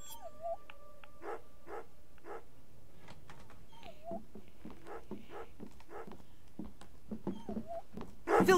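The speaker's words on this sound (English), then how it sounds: "Filthy dog!" Dog yips and whimpers in the Remothered horror game, short high-pitched cries recurring through an otherwise quiet, low-level stretch, with a louder burst near the end.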